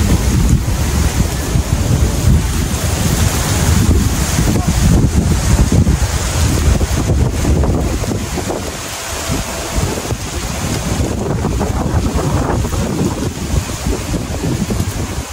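Strong wind roars and buffets the microphone continuously, with a low rumbling gusty texture and no voices.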